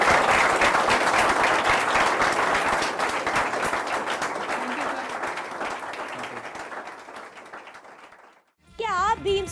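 Hearty applause from a talk-show audience honouring an NDA aspirant, a dense wash of clapping that gradually fades out before a short musical sting.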